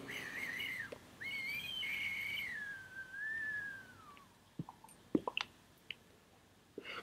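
A Kayfun 3.1 clone vape atomizer whistles in long, wavering high tones while air is drawn through it, followed by a few soft clicks and pops once the drawing stops.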